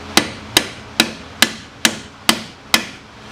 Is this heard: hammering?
yes